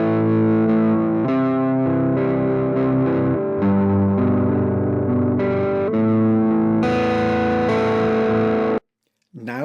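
Electric guitar with a slightly dirty clean tone, captured through a bright and a dark microphone, plays loud sustained chords and ringing notes. It stops abruptly into brief silence near the end.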